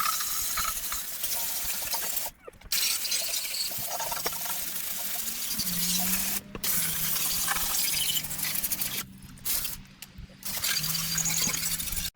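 Water spraying in bursts across a Acura RSX engine bay during cleaning, a steady close hiss of pressurized spray interrupted by several brief pauses, with no talking.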